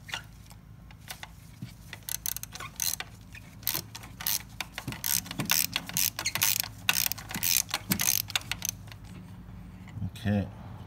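Socket wrench ratcheting on a spark plug of a 2007-2011 Honda CR-V, a rapid series of small metallic clicks and ticks close by, with a short rattling burst near the end.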